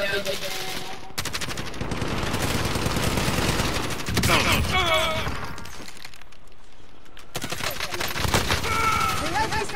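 Rapid automatic gunfire bursts from the Warzone video game, loud and close, broken by short pauses and occasional glass-like cracks, with players talking over it.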